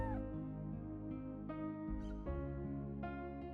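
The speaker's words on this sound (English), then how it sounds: "Kitty." Cat in the Chrono Cross video game giving a few short, high meows over a steady layer of in-game music, close and clear.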